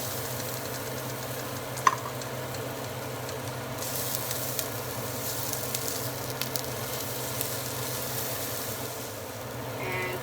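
Ginger frying in hot oil in a pan while cooking a chicken curry with pineapple, a steady close sizzle running the whole time with a few small pops and clicks, no talking.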